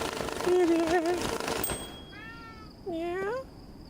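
A house cat meows twice, with a short meow near the start and a second one after a pause. Background noise is heavier during the first cry and quieter during the second.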